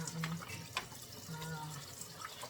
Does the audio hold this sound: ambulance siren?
no